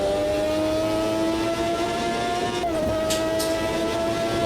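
McLaren racing car in the Automobilista 2 sim at historic Monza, its engine a steady loud drone holding a high note with a brief shift in pitch midway, alone with no talk.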